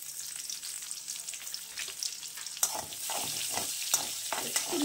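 Chopped small onion frying in oil with Bengali five-spice for a snakehead fish curry, a steady close sizzle with bright crackling pops and occasional stirring scrapes that grow busier partway through.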